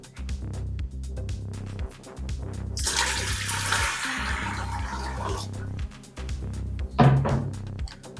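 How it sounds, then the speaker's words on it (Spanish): Water pouring from a container into a Ninja Foodi cooker pot, one liter in a single continuous splashing stream lasting a few seconds, close, over soft background music. "Ahora en la Ninja Foodie vamos a echar 1 litro de agua."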